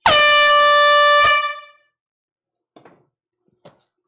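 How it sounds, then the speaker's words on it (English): A single loud air horn blast sounds during a live vinyl record auction, a sustained blaring tone lasting over a second before cutting off, followed by a few faint knocks. "It's time for the air horn."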